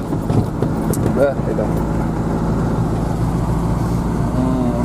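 A car moves slowly along a thawing, slushy taiga road after heavy snowfall, its engine and tyre rumble steady and close throughout, with a brief spoken remark near the start.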